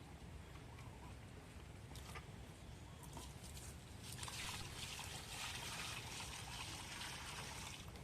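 Water is poured on a farm to fill a drinking container for animals, a faint steady splashing trickle that grows fuller and louder partway through, with no voices.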